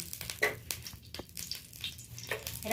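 Crackling sizzle of potatoes frying in hot oil in a wok, with scattered pops and clinks of stirring, close and fairly quiet.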